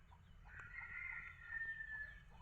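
Pet chickens make a soft, drawn-out clucking call, heard faintly and alone at a moderate distance.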